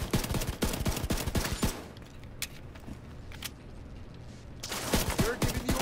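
Gunfire in the video game Tom Clancy's The Division 2: rapid bursts of sharp shots crackle at the start, fall quiet for a few seconds apart from isolated cracks, then resume in a loud close volley at the end.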